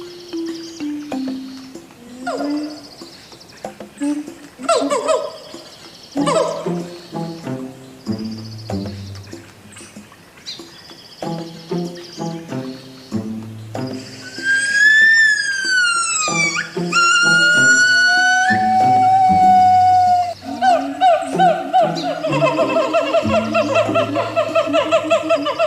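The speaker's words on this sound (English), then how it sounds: "Gibbons." Gibbons call in long rising and falling whoops that build into fast, siren-like wails and loud, repeated hoots. The calls are loud and close, and they start out choppy before turning into sustained, looping cries.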